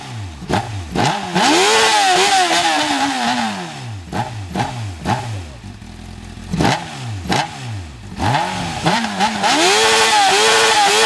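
A Honda CB600F motorcycle engine with the air filter removed revs hard in repeated sharp bursts, each rising and falling quickly, loud and raw with a rough, throaty edge.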